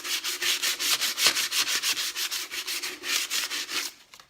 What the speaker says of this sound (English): I use 220, and it doesn't take much. You just lightly sand.